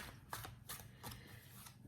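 Tarot cards are shuffled by hand in short, quiet riffling bursts, about four soft papery flutters in under two seconds, close and without voices.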